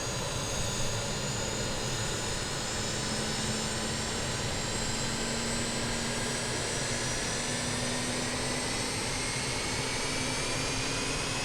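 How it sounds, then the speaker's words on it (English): A BAe146 jet engine starting in a flight simulator game: constant broadband roar with thin whining tones slowly climbing in pitch as the engine spools up, steady and unbroken for over ten seconds. "the engine start sounds actually pretty good on this airplane"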